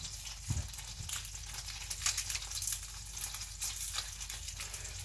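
Onions frying in a pan give a steady close sizzle and crackle with a brief low knock near the start.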